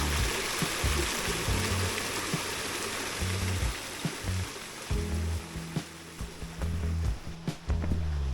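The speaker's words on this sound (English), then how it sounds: "I'm on top of the first waterfall of the day." Waterfall on a hiking trail heard from the top of the falls, a steady broadband rush of falling water that stays loud and continuous throughout.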